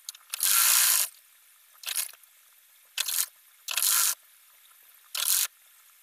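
A sewing machine stitches folded piping fabric onto a small child's top, running in five separate bursts of rapid mechanical stitching with short pauses between them, close and fairly loud with no talk.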